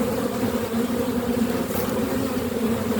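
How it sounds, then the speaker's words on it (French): Honeybees buzzing steadily at a hive entrance, a dense, continuous close-up drone of many insects with no voices. "ça fait plaisir de voir des abeilles travailler normalement"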